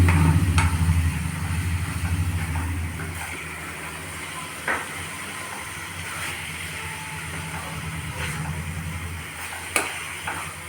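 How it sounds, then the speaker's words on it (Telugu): Curry of keema with fenugreek leaves and green peas being stirred in a pan, a steady low sizzle with a few soft spoon knocks and scrapes spread through, fairly close and without talk. "మధ్య మధ్యలో ఇలా కలబెడుతూ ఉండాలండి"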